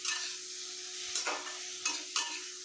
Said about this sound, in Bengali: এবার টমেটোটা দেওয়ার পরে আবার এটা নাড়তে হবে।